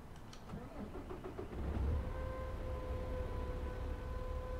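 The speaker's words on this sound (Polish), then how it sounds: "Włączamy silnik." Peterbilt truck engine starting in American Truck Simulator, a short cranking sputter catching into a low steady idle that hums on at moderate volume.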